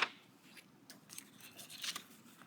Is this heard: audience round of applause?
no